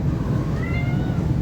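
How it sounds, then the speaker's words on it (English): Domestic cat meowing indoors in a workshop, one short rising-then-falling mew over steady low background rumble, close and fairly faint. "there's the cat"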